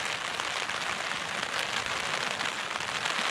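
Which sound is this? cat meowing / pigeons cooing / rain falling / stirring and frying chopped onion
rain falling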